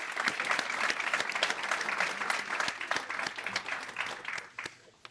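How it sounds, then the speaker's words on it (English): An audience at an academic economics session applauds its discussants: sustained, dense clapping that holds steady for several seconds, then thins and fades near the end. "give a big applause to our discussants"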